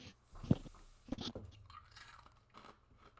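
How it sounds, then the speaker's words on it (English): Ice being crunched between the teeth, a few sharp close crunches followed by softer grinding chews, loud and near with no talk. "I like crunching ice"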